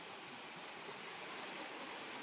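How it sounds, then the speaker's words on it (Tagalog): A waterfall pours into a clear stream, heard as a steady, dense rush of falling water without pause, fairly faint and with no voices. "Ayan yung falls dyan, may bumabagsak na tubig dyan sa falls."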